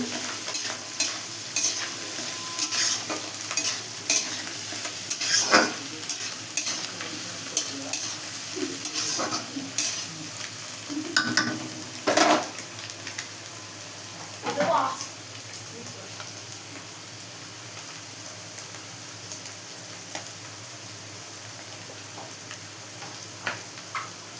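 Soybeans stir and sizzle in a wok, with scraping clatters and bursts of frying over a steady crackling background.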